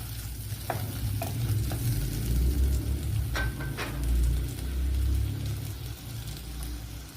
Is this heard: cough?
no